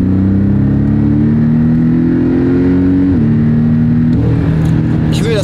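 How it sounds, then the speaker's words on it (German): Porsche 718 Cayman S on new tyres and KW V3 coilovers driven briskly, its engine droning steadily with a sustained hum that dips and shifts as the car works and slides, loud and continuous, with voices talking over it. "Wir fahren trotzdem mal ein bisschen zügiger und sehen halt, wie das Auto rutscht und arbeitet."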